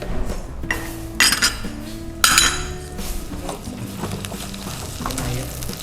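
Water spinach frying in oil in a pan, stirred with a utensil that clinks and scrapes against the pan in several loud bursts over a steady sizzle.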